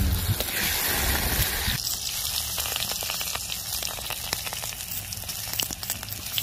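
Morel mushrooms fry in butter in a pan, giving a steady close crackling sizzle that grows brighter and busier partway through, with no talk over it.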